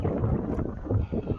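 Gusty wind buffets the microphone on the exposed southern edge of Kinder Scout in the Peak District, a steady low rumble with louder surges throughout.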